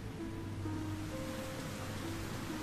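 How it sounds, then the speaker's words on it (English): Steady rain falling in the World End Syndrome video game, a continuous soft hiss with no breaks, evenly loud across the short stretch, with faint musical tones sitting underneath. "Rain starts to fall."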